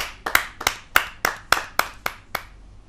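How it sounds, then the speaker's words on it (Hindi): Sparse audience clapping welcomes a poet on stage at a televised Hindi kavi sammelan: about nine distinct, evenly spaced claps over under three seconds, close and clear, with no talking. "आपकी जोरदार तालियां उस कवित्री के लिए बजे।"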